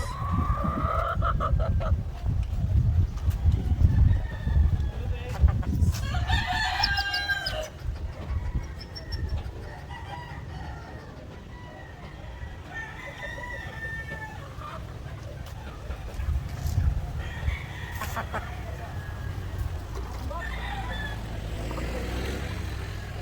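Roosters crow and hens cluck in a farmyard of White Leghorn and Black Australorp cross chickens, with several calls rising over a steady low rumble of background noise.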